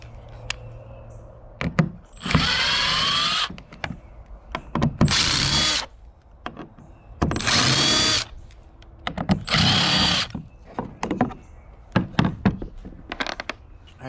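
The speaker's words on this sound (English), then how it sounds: "drill out the plate below it, drill out the access plate, and install our plug" Power drill boring out an access plate on a NuCanoe Unlimited canoe during a Motorguide Xi3 trolling motor install, several loud bursts of whirring drilling alone, separated by short pauses and clicks.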